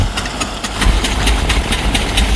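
A tractor engine idles in a village, a loud, steady diesel rumble with regular thumping pulses, close by and with no other sound over it.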